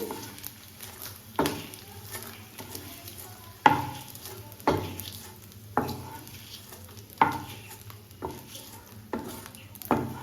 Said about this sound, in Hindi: इस तरह से कंटिन्यू चलाते हुए हम इसको धीमी धीमी आंच पर अच्छे से भून लेंगे